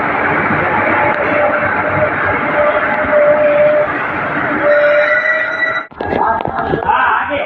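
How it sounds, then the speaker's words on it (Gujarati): A train pulls into Bhavnagar railway station, a loud, continuous rumble and clatter of wagons rolling close by with a sustained horn tone, then a sudden brief drop and renewed rattling; voices can be heard faintly beneath. "અત્યારે એક ટ્રેન આવી રહી છે."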